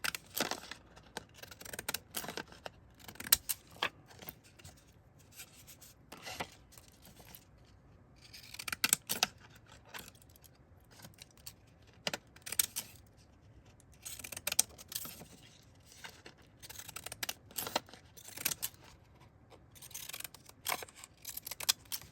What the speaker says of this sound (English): I'm going to take my decals and I'm going to trim around the outer edge.